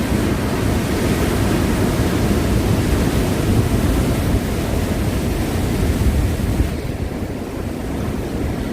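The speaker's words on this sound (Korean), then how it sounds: "이 파도가. 야 이거는 아까보다 더합니다" Ocean waves crashing against the rocky shore at Jukseong, Busan, a loud continuous roar of surf mixed with wind noise, with no voices.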